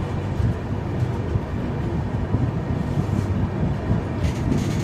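Train pulling out of Coimbatore station in Tamil Nadu, heard from on board as a steady, loud low rumble of wheels and carriages rolling throughout with no talk.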